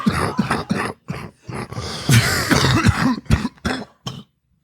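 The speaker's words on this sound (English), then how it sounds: "You have coughed the entire time." A man coughs and clears his throat repeatedly in a podcast studio, a loud, close run of harsh bursts with a short groaning stretch in the middle and brief pauses between.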